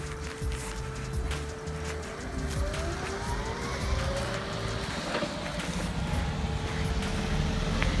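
A bus rumbles past on a frosty, icy road, its engine drone rising and holding close and fairly loud throughout, with a faint high whine and steady road noise.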